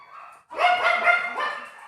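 Dogs barking indoors: a faint whine, then a sustained, loud burst of close, overlapping barks and yips for over a second.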